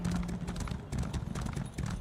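Horse hooves clip-clop at a quick, steady gallop in Skyrim, a mount running continuously at moderate volume with no other prominent sounds.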